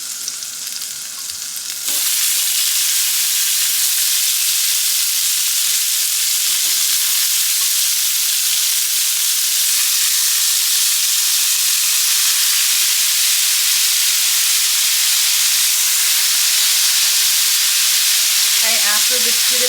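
Asparagus frying in a cast iron skillet gives a loud, steady broadband sizzle that holds almost unbroken for the length of the clip, with brief stirring knocks now and then and no talking.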